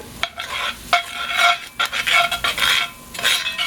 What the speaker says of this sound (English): I'm going to stir that around a little bit.